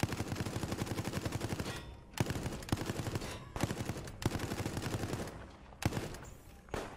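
Rapid machine gun bursts from the video game Resident Evil Resistance, several sustained volleys of fast regular shots separated by brief pauses, punchy and close, with no voices over them.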